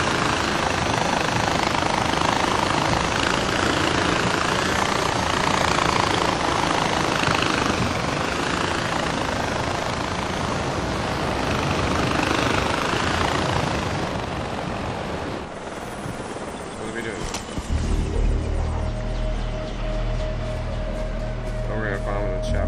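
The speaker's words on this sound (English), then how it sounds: "Chopper." A helicopter in the video game Far Cry 4 gives off a steady, loud rotor roar that fills most of the stretch and then dies away, with game sounds and talking near the end.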